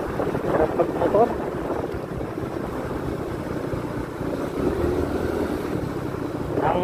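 A scooter motorbike cruises along with a steady engine hum under heavy buffeting wind noise, and a brief voice is heard near the start.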